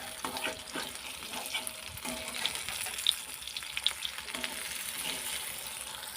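Fritters (bora) crackle and sizzle in hot oil in a pan just after being flipped, a steady close frying hiss with scattered sharper pops and faint scraping, no voices.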